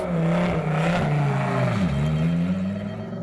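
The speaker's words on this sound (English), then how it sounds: "Into the pits comes car number 7 ARC Bratislava" Car number 7 of ARC Bratislava, a race car at the Asian Le Mans Series round at Fuji, droning steadily as it rolls into the pits, with engine pitch dipping and shifting under a continuous close mechanical whine.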